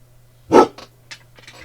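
A guard dog gives a single sharp, loud bark at a neighbour, followed by a few softer huffs and pants, with a steady low hum in the background.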